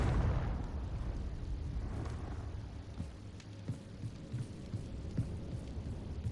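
A Confringo blasting spell in the video game Hogwarts Legacy goes off with a deep booming burst that rolls into a low rumbling tail, followed by a few faint pops over a murky hum.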